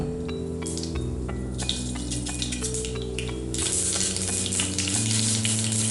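Half a spoon of mustard seeds crackles and pops in two spoons of hot oil in a frying pan, with scattered sharp snaps over a steady sizzle, growing busier partway through beneath sustained background music.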